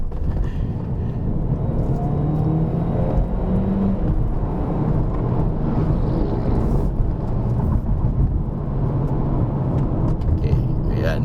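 A 2019 Volkswagen Beetle 1.2 TSI rolls downhill on the Genting hillclimb road, giving a steady close rumble of road and engine noise mixed with wind buffeting on the microphone throughout.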